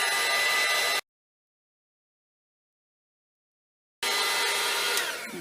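A hair dryer blows on wet paint inside a vintage-style assemblage box, a loud close whoosh that cuts off for about three seconds, then starts again.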